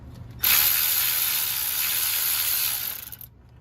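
A top bolt being backed out of the AC compressor on a Honda Insight 2ZE, a steady loud buzzing ratchet-like whir lasting about three seconds and then cutting off, close up with no talking.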